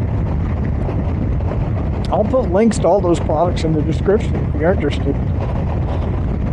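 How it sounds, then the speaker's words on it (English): Wind buffets the microphone outdoors on a very windy, warm day beside a Honda Goldwing motorcycle being washed, a steady low rumble running under a man's close speech throughout. "I'm sorry about the wind. It's very windy today."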